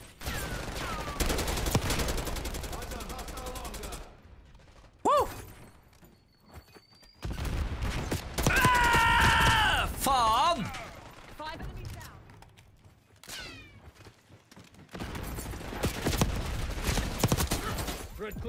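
Bursts of automatic and single-shot gunfire in Black Ops 6 multiplayer crack in clusters between quieter gaps, mixed with game effects and a player talking over the action.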